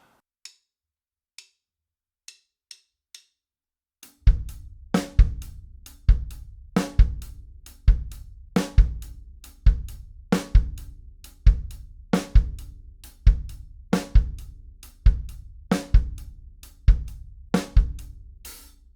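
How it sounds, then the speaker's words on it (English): A few soft count-in clicks, then a full drum groove kicks in with rapid bass drum thumps between snare and cymbal hits, steady and busy. "the bass drum is going to land on every E."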